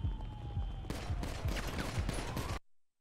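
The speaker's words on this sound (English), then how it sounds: "Oh, I got shot" Rapid gunfire in a GTA game, a dense burst of overlapping shots that rings loud and continuous for over two seconds before cutting off abruptly.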